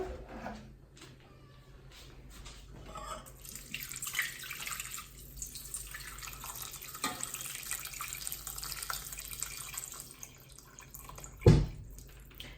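Tap water runs into a pot for congee rice soup, a fluctuating splashing stream at moderate level with a sharp clunk near the end.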